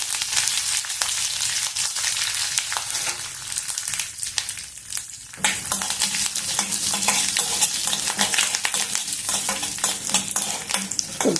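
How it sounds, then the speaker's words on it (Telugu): Chana dal, urad dal, a chili, curry leaves and cashews fry in hot oil in a pan, giving a loud, steady sizzle with scraping stirs throughout. "కొద్దిసేపు వేగనిద్దాము."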